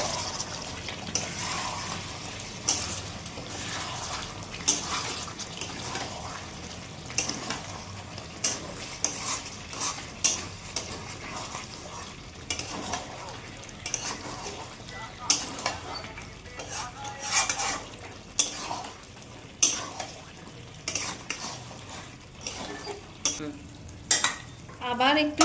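Chicken kosha stirred in a pot with the lid lifted, a steady low sizzle under repeated scraping and clattering of a spoon against metal, close and irregular, with a few louder knocks toward the end.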